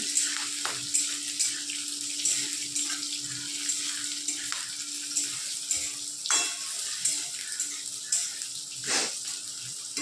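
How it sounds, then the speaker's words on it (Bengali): Gentle, steady frying crackle of vegetables in a pan, with scattered light pops and clinks, fairly quiet and without any talking. "সবজির মধ্যে সবজিটা একটু হালকা হালকা লাল করে ভেজে নেব"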